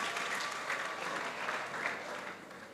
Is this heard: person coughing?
no